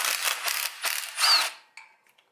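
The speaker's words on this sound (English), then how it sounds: "gotta take out these 4 bolts" A hand ratchet loosening bolts on the brakes of a Kubota B7100 tractor, with rapid clicking bursts close by for about a second and a half, then fading to a few faint scattered ticks.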